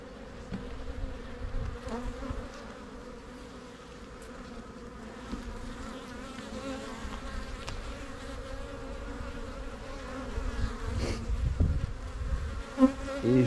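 Honeybee colony buzzing softly and steadily during a spring hive inspection, with brood and drone cells on the frames; a close, continuous hum with occasional louder passes of individual bees.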